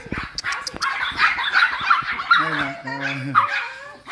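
A small Pomeranian dog gives a few short, high yips and whimpery barks close by, mixed in with a person talking and calling out loudly over the top.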